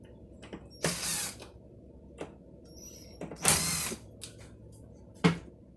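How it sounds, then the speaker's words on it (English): Four screws come out of an arcade bartop cabinet's control panel, heard as a few separate short mechanical ratcheting, whirring bursts with quiet gaps between them. "If you undo those 4 screws,"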